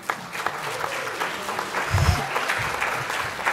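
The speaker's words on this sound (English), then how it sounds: "let's give these people a round of applause" An audience claps steadily through the whole stretch at a cannabis industry conference honoring Black participants, a dense, moderately loud wash of hands with a few louder low thumps near the middle.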